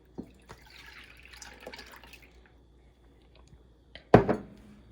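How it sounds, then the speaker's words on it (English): Milk pours from a measuring cup into a bowl with a soft, faint liquid trickle, then ends in a short, louder splash and clatter near the close. There is no talking. "Then we're going to pour it into our bowl."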